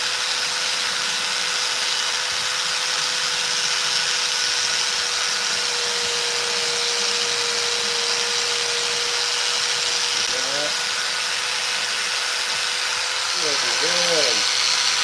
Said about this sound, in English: This sander really saves a lot of time